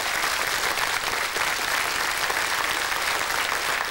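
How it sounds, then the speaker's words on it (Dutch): A studio audience on a 1993 Dutch television science quiz applauds, a loud continuous wash of clapping filling the whole stretch with no talking over it. "Ja, dus, applaus."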